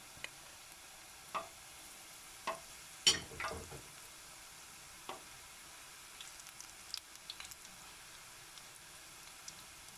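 Dandelion flowers frying in oil give a soft, faint sizzle with scattered crackles and occasional stirring taps, close by.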